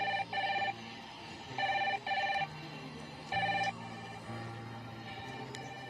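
A telephone rings in repeated double bursts at a police station in the 2004 film A Promise Kept, moderately loud over a low background hum, with no one speaking.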